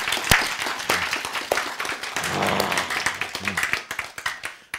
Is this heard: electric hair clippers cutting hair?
no